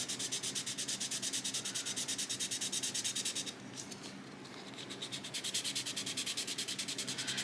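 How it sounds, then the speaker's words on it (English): A rigid 400-grit sanding stick rubs across a 1/350 plastic battleship model, making close, rhythmic back-and-forth scratching strokes that pause briefly midway and then resume at the same steady pace. "I'm trying to do my best to make sure that this sanding stick, and it is a rigid sanding stick, is remaining flat and in contact with the entire surface"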